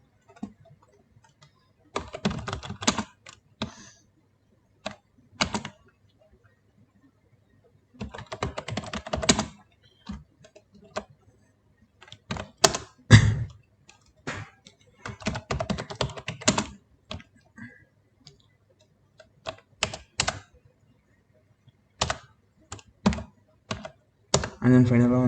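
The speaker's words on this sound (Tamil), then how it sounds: "ஸோ இப்போ நான் டெக்ஸ்ட் வந்து டைப் பண்ணிக்கிறேன்." Typing on a computer keyboard while entering text in MS Word: bursts of quick, close key clicks separated by short pauses, continuing in irregular clusters throughout with no talk over them.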